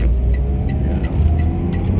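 A car speeding up through busy city traffic in Ho Chi Minh City, a steady low engine drone and road rumble heard from close by, continuous and fairly loud without speech.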